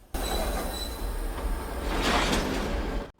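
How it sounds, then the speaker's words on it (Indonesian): A train in the film Bajrangi Bhaijaan pulls away with a steady low rumble of wheels on rails and rising metallic squeal, continuous and fairly loud, no voices. "Ternyata keretanya jalan"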